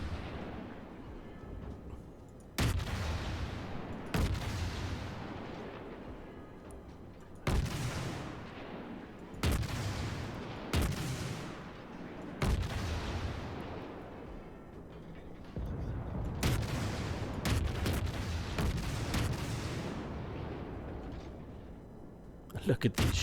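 Krasny Krym cruiser guns firing in World of Warships: about ten heavy booming salvos spaced a few seconds apart, each a sharp loud blast trailing into a long rumbling decay, with someone talking between shots.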